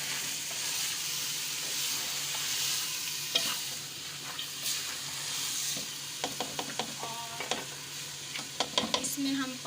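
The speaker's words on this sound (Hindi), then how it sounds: "अब हम इसमें डालेंगे दाल चना। इसको हम अच्छी तरह मिक्स करेंगे।" A spoon stirs chicken and chana dal sizzling in a pan, steady frying hiss with scraping strokes that grow more frequent toward the end; no voices.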